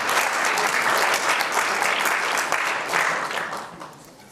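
Dense, steady applause from a university immunology lecture hall audience fills the room, loud and sustained before tapering off near the end, with no one speaking.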